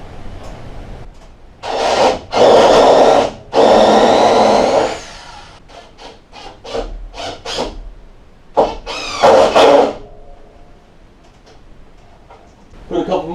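A power drill drives screws into the ceiling of a garage being converted into a studio, with several loud whirring bursts of varying length, separated by quieter handling noise.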